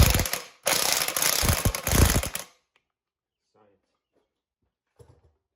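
An electric impact wrench tightens fasteners to 55 foot-pounds on a 1962 Viking 15 hp outboard engine, with two loud, close bursts of rattling hammering separated by a short pause, then near silence with faint handling clicks.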